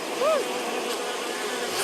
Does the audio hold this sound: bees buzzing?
yes